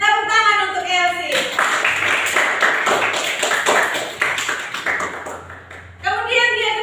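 A school class claps for a student during a maths lesson: a short burst of quick, bright hand claps from a room of pupils, with a teacher's voice just before and right after.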